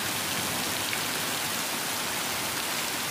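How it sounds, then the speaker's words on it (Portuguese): A heavy rain shower falls on a cornfield with young corn sprouting, a dense, even patter of drops that continues steadily throughout with no voices. "Vamos ver quantos milímetros que vai dar essa pancada de chuva."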